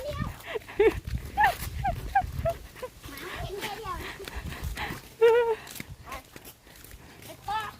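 A dog barks in short bursts at an outdoor spot where children are gathering coconuts, with the barks heard under near, continuous children's chatter.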